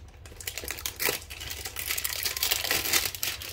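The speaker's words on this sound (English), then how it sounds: "I don't know why I'm using scissors on a hanger box." Close, continuous crinkling and crunching of cardboard as scissors cut through a basketball card hanger box, with rough, uneven scraping bursts.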